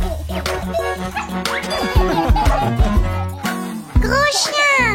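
A cartoon dog barks and yips among lively music and a voice, several short barks scattered through the busy mix.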